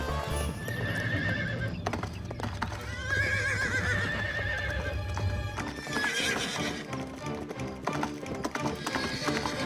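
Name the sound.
horse neighing and clip-clopping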